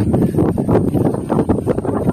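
Loud, gusty wind buffets the microphone in rough, continuous rumbling bursts.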